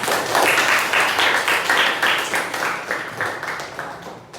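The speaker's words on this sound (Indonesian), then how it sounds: "Beri tepuk tangan untuk semuanya." Classroom group applause from teachers in a training session, loud close clapping in a fairly rhythmic pattern of rising and falling bursts, steady for several seconds before tapering at the end.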